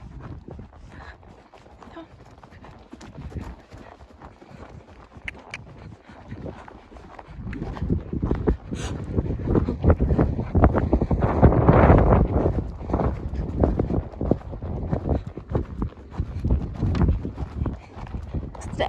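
Hooves of a ridden ex-racehorse clip-clop steadily outdoors, moderately close, partly masked by wind and rustling noise that grows louder midway, with a rider's voice talking at times.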